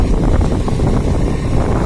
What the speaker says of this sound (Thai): ลมแรงครับวันนี้มีเสียง